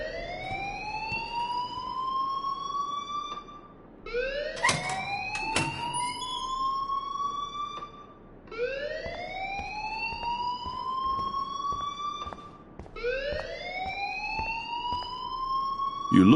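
School alarm ringing in the video game Life is Strange: a loud electronic siren rising in pitch in repeating sweeps, about four cycles with brief gaps, plus a couple of sharp knocks over a low background.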